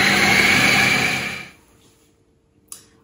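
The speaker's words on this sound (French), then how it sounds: "on peut se mettre à vitesse 3 et mixer jusqu'à avoir un mélange homogène" A Cooking Chef food processor blends a speculoos biscuit base at speed 3, a loud steady motor whir that winds down and stops halfway through, followed by quiet and one brief knock.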